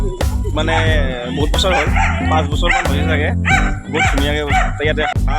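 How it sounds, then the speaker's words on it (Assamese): A dog on a village farm barks and yips repeatedly, loud and close, its barks overlapping with a person talking throughout. "কুকুৰ এটা আছে, কুকুৰটো বহুত ভুকি আছে।"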